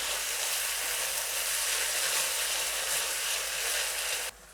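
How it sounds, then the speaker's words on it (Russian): Half a jar of ketchup-style sauce sizzles in a frying pan for a 1952 fish marinade recipe, a steady close hiss with no talk that drops away abruptly near the end. "обжарим этот соус."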